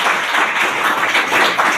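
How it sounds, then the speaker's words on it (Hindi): Enthusiastic applause from the audience at an AWPL awareness program, loud and close, a dense patter of many hands clapping continuously through the brief moment. "एक जोरदार तालियां इन लोगों के लिए"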